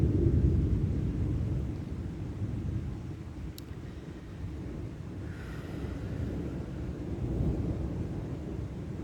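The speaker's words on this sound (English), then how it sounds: "Listen to the skies. It's just rumbling." Low, continuous thunder rumbles through the sky over a valley beside a cave, swelling and fading for several seconds, with wind buffeting the microphone and no voices.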